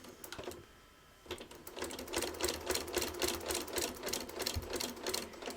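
A sewing machine with a walking foot stitches across the binding of a small quilted project in quick, rhythmic mechanical bursts, close and alone, after a brief pause near the start.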